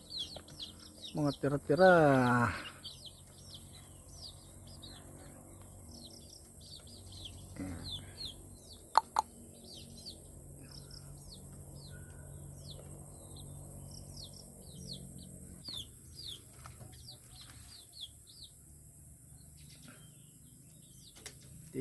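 Small chicks in a makeshift pen cheep with scattered thin, high peeps over a quiet background, while someone speaks briefly near the start and a couple of sharp knocks sound midway.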